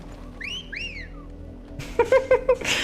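Two rising whistle calls from the wolf cry whistle in Final Fantasy XVI, each a quick upward sweep followed by a second, clear and fairly loud over a low ambient game bed, then a few sharper percussive hits.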